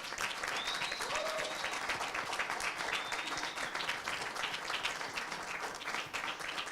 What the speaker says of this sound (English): So big applause for him again,